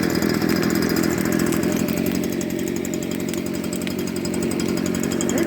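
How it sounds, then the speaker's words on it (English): Leaf blower running steadily beside a large outdoor burn pile, forcing air underneath to feed the fire; a loud, continuous engine drone with a buzzing whine holds level throughout, with no talk. "He's got some kind of a blower, a leaf blower over there to try to put some oxygen underneath it."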